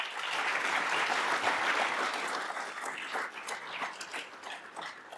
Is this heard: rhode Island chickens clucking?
no